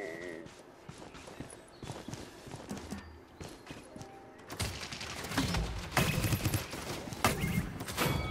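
Gunfire in the PS4 video game Paladins, with bursts of rapid shots that grow louder and more continuous toward the end, mixed with other game effects and background activity.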